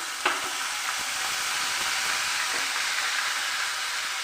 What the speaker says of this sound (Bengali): এবার ওই মাছ ভাজার তেলের মধ্যে আমি এখানে দিয়ে দিচ্ছি পেঁয়াজ বাটা।